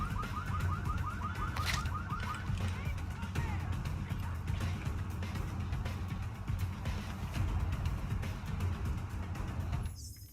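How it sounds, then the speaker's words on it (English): A car alarm blares steadily in the video game Deus Ex Mankind Divided, a loud repeating siren that carries on for about ten seconds before cutting off. "I didn't realize that that stupid car had a goddamn alarm on it."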